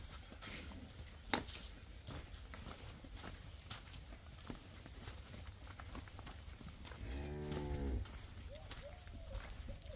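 A single drawn-out cow moo rises near the middle over a steady dairy farm background of low rumble and scattered knocks, followed by a few faint calls.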